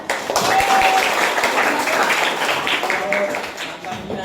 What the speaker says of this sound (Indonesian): tepuk tangan anak